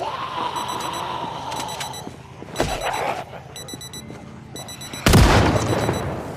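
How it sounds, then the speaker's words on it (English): Wristwatch alarm in the video game Project Zomboid, sounding as repeated bursts of high electronic beeps in clusters, mixed with game sounds and a loud booming impact near the end. "Stop the alarm, please."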